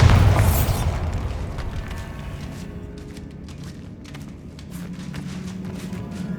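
A Bombarda explosion spell cast in the Hogwarts Legacy video game lands as a loud boom that decays into a rumbling, crackling tail with scattered debris pops over several seconds, with no talking over it.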